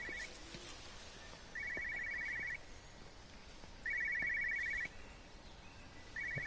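In Everybody's Gone to the Rapture, set in England, a telephone rings in repeated trilling bursts, about a second each with pauses between, fairly close over faint ambience and occasional birdsong.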